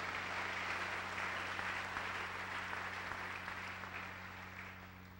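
A congregation claps during a Sunday church service, an even wash of applause at moderate distance over a low electrical hum, gradually softening toward the end.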